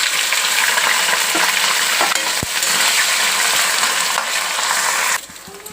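Mustard seeds and torn dried red chillies hit hot oil in a pan, producing a loud, dense, continuous sizzle with faint crackles and a soft clink, dropping off abruptly near the end.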